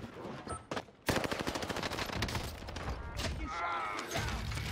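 Rapid bursts of STEN submachine gun fire in a Rebirth Island video game match, loud and dense, with a brief pause before a sustained volley and other game effects mixed in.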